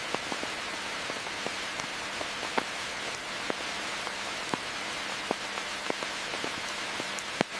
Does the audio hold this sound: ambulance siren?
no